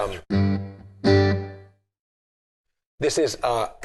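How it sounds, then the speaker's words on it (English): Electric guitar played through a Marshall AS100D acoustic amp on a hall reverb effect: two strummed chords ring out with a reverberant tail and fade to silence, then a quicker run of notes follows near the end. "effect number 1, which is one of the types of hall reverb"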